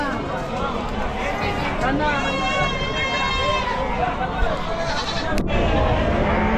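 Sheep and goats bleat amid the crowd at the busy Chakan livestock market in Maharashtra, with a few wavering calls standing out over steady chatter and bustle.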